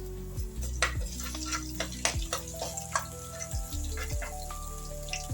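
Onion frying in a pan for a South Indian aloo tomato kurma, with steady close sizzling and repeated scraping, clinking stirs of a utensil against the pan.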